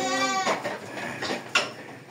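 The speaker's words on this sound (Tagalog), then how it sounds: "Ayun si Alan, hinuhuli yung kambing, nakatakas." A goat caught by a man on a farm camp, which escaped and resists a vitamin injection, lets out a few close, wavering bleats in quick succession.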